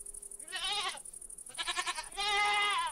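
Goats bleat in a short series of loud, wavering calls close by, with brief quiet gaps between them and no talking.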